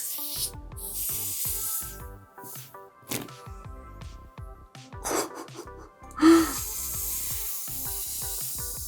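Air hisses and squelches out of a squeezed foam toy, with repeated rubbing and squishing noises close up.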